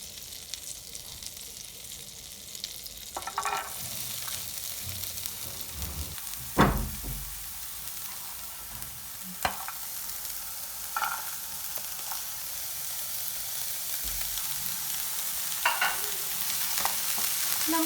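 Vegetables sautéing in a little butter in a hot pan for a stuffed omelet, a soft steady sizzle broken by several scraping stirs and clinks of a spatula, close and moderate in level with no talking.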